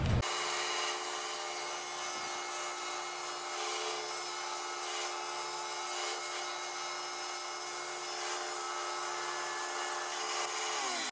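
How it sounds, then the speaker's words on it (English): A table saw runs steadily and loudly, cutting a vehicle windshield with a constant high whine and faint rhythmic variations, no voices present. "rip it on the table saw because that'll be the best way to get a clean cut"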